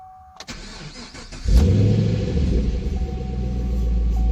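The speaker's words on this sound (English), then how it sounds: "so I'm going to start the engine." Chevrolet Camaro SS 6.2L V8 cranks briefly with a click and whir, then fires up with a loud roar and settles into a deep, steady rumbling idle, close up.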